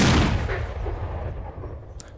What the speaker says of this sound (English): we'll just barrel stuff him with this cannon